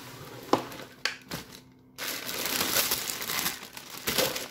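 A plastic grocery bag from a Christmas food shopping haul crinkles and crumples up close, with sharp rustling bursts, a short pause, then a longer stretch of continuous crackling.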